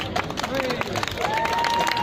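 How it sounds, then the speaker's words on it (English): Outdoor audience at a Castle Park gathering in Bristol clapping, a dense, loud patter of many hands mixed with crowd chatter, cheering and a whistle rising over the top. "Give yourselves a clap as too, and the people next to you."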